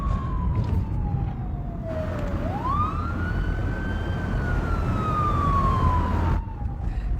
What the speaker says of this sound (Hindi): अबे सायरन बंद करो।